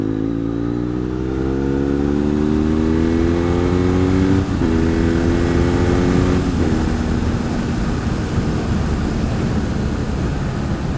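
A motorcycle exhaust roars steadily while riding to a bike meet, its pitch climbing through the gears with two quick shift breaks, loud and close with no talking.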